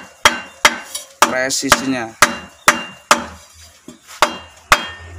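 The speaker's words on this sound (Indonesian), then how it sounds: "dengan balok kayu mas ya, kita kasih lemek dengan balok, lalu kita ketok dengan palu mas ya" A hammer strikes a wooden block to seat a Nissan PF6 CD350 diesel engine cylinder liner, giving sharp, evenly spaced knocks, about a dozen in five seconds, close and loud, with someone speaking briefly between blows.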